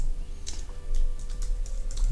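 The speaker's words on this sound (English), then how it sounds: "I go to the terminal and I write php artisan" Quick, light clicks from a computer keyboard as a terminal command is typed. Irregular keystrokes patter for about two seconds over a steady low background hum, with no talking.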